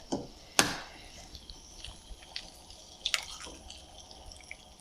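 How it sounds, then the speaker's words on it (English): A sharp tap of an egg cracking into a pan of butter, then faint drips and a soft second crack in a quiet kitchen. "let's crack the egg in"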